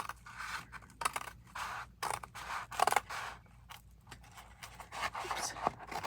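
Scissors cut through the cardboard of a bagel box in a quick series of crisp, close snips and scrapes with short pauses between them.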